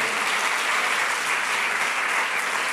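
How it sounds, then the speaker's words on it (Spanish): A church congregation at a Sunday service claps for the Lord in thick, continuous applause, loud and even throughout with no voices over it. "¿Cuánto le damos un aplauso al Señor?"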